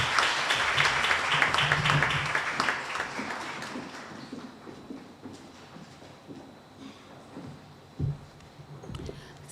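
Conference audience applause fills the hall at the opening ceremony, loud and dense at first, then thinning into scattered claps and fading, with a brief bump near the end.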